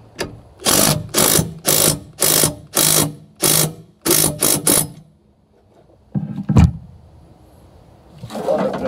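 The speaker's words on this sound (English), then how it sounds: "impact gun." An impact gun removes the blade bolt on a Toro push mower, firing in about a dozen loud, rapid hammering bursts in quick succession, then a pause and a final short burst.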